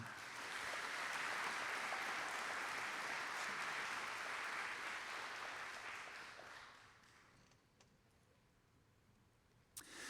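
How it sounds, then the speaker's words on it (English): Warm crowd applause at an athlete award ceremony, steady and full for several seconds, then fading out to a quiet room with a few scattered claps. "please give a round of applause for Miss Emma Siglin."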